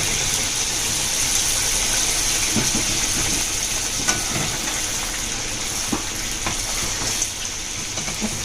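Kathali banana pitha frying in hot white oil in a kadai gives a continuous, even, hissing sizzle with occasional small pops and crackles, moderately loud and close, with no talking.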